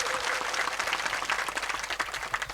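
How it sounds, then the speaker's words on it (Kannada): Dense, continuous clapping from a crowd at a farmers' irrigation protest rally, welcoming a swamiji onto the stage. It is steady, crackling and fairly distant, with no voices over it. "ಜೋರಾದ ಚಪ್ಪಾಳೆ ಮೂಲಕ ಮಹಾತ್ಮರನ್ನು ಸ್ವಾಗತ ಮಾಡಿಕೊಡ್ರಿ"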